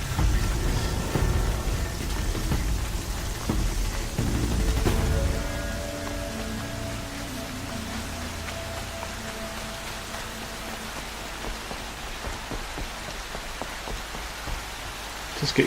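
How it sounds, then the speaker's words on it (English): Steady rain falls in the video game Horizon Zero Dawn, a soft, even hiss that is heavier for the first five seconds, then settles lighter, with no talk. "And it's raining."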